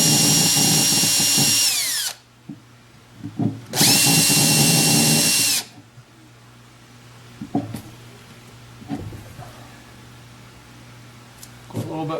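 Two bursts of a high-pitched power drill on low speed whirring into wood, each about two seconds, separated by quiet moments with small clicks and handling noises.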